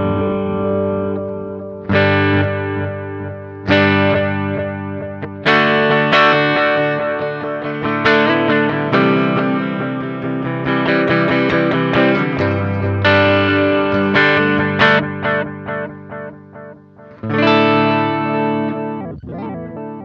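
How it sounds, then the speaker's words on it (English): Distorted electric guitar through a Sonicake Levitate delay pedal with a long delay time, strummed chords and picked notes trailing audible repeats that smear together, with a warbling pitch bend near the end. "as we turn that time control up, we're going to start to elongate our repeats and make our delay time longer"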